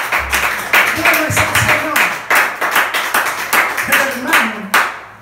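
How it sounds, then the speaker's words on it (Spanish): A church congregation claps for Jesus in steady, rhythmic handclaps that continue throughout, with voices singing and calling out over the clapping. "Vamos a aplaudir a Jesús"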